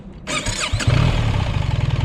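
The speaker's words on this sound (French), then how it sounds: "la moto est en train de monter" A 2024 BMW R1300GS with automatic gearbox fires up with a quick whir, then settles into a loud, close, rhythmic throbbing idle with steady pulses.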